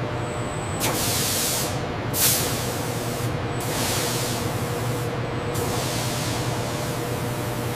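Primer is sprayed in a factory finishing bay in four long, loud hissing bursts separated by short gaps, over a constant low mechanical hum from the plant.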